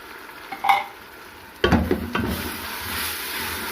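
Ginger, garlic and green chili paste hits a pan of lightly browned onions with a loud sudden sizzle and a couple of stirring scrapes, settling into a steady low frying hiss.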